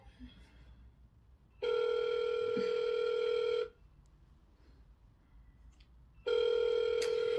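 A landline telephone ringing indoors in a domestic comedy scene, two long electronic trilling rings separated by a pause, fairly loud and clear with little else around.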